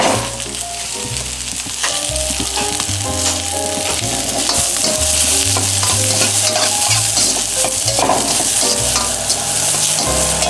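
Karimeen (pearl spot fish) with green chili, ginger and onion sizzles loudly and continuously in a pan, with crackling and stirring over a tonal musical backing.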